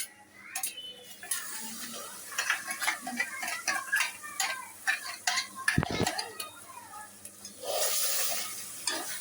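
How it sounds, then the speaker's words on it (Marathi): Tomato paste and biryani masala gravy, with fried onion and chilli and turmeric spices, frying in a pot, soft sizzling broken by frequent scraping stirs and clinks of a spoon against the pan, fairly faint and close. "आता याला थोडंसं फ्राय होऊ देते"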